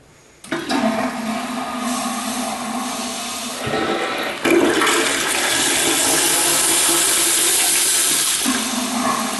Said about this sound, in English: it will flush as you leave the toilet if you've been standing here for any amount of time, so let's demonstrate that.